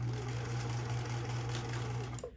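A sewing machine runs at a steady whir with a low stitch length, stitching fabric for an Elven-inspired dress before it winds down and stops.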